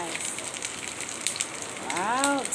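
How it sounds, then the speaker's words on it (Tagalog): Fish frying in hot oil, crisping until golden, gives a steady close crackle and sizzle throughout, with a brief voice-like tone rising near the end. "Pritong-pritong isda na."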